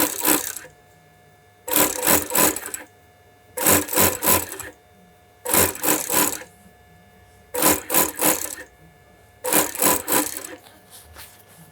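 A sewing machine edge-stitches around a shirt armhole in a London bespoke shirtmaking workshop, running in six short, even bursts of about a second each, separated by quiet pauses.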